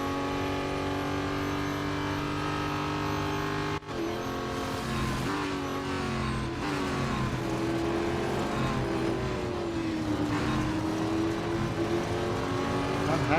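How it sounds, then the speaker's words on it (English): Race car engine in Real Racing 3, a Duqueine D08 prototype, droning loudly and continuously with rising and falling revs as it accelerates out of a corner, a brief dip partway through, no talk. "the car just hasn't got the acceleration coming out of this corner"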